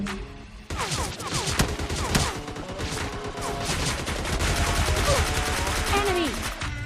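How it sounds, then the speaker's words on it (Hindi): Bursts of automatic gunfire and scattered single shots crackle in a PUBG Lite match, loud and dense, firing almost without pause alongside game effects. "अब मैं आगे की तरफ जाता हूँ और तभी पीछे से फायरिंग आती है।"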